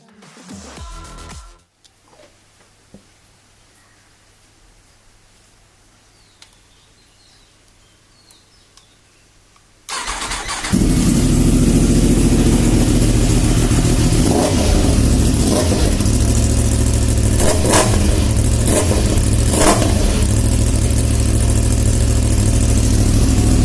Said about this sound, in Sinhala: එක්සොස් නෝට් එකක් අරගෙන බලමු.